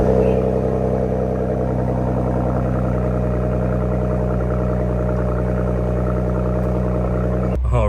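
A Ford Explorer ST with a newly fitted K&N intake filter idles loudly and steadily, a continuous close engine rumble with a strong low hum that cuts off abruptly near the end.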